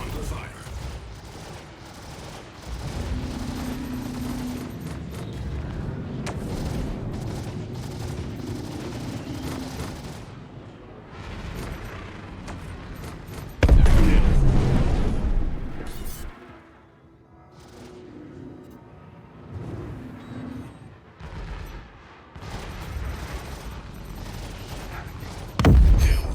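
Rapid gunfire pelts a spaceship's shields in the space game Star Citizen, with a dense, continuous rattle of shots and heavier impacts that swell and fade, including a loud burst midway.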